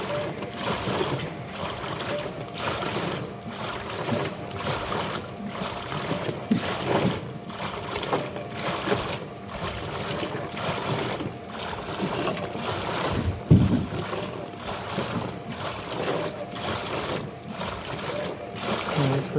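A Frigidaire washer on the workout wear cycle rinses, water sloshing and splashing in regular rhythmic surges as the drum turns back and forth, with a soft thump partway through.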